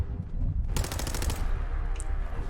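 A rapid burst of automatic gunfire from Fallout 4 rattles loudly for under a second over a dense, rumbling game background, with a brief high ping afterward.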